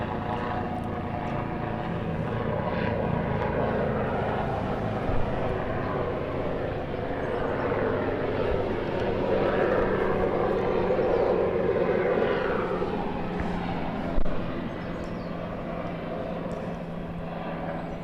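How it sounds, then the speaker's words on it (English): A helicopter flying along a railway line just to the south of an outdoor croquet lawn, a steady distant engine drone that swells and fades over eighteen seconds with no voices. "we've just had a helicopter flying along the line of the railway, just to the south of us"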